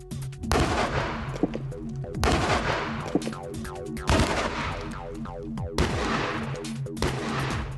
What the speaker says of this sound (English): Next, the cannon will be trained on the earth-backed section of the wall.